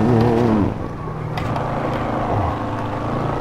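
Roadster car engine in the video game Gran Turismo 7 dropping from a high rising rev under braking, then settling into a steadier drone as it accelerates again, loud and close.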